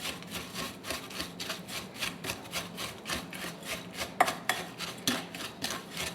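Oat cookie dough stirred in a bowl while oil is slowly added, a rhythmic scraping and rubbing repeating about twice per second, close and steady with a few sharper clinks and no talk.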